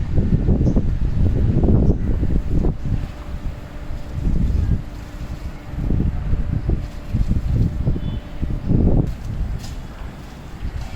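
Strong gusty cyclone wind buffets the microphone in heavy, rumbling bursts that rise and fall throughout, during testing of a 16-metre high-rise scissor lift.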